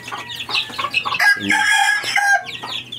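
Chickens cluck nearby while a rooster crows loudly, several birds calling over one another in a busy farmyard chorus.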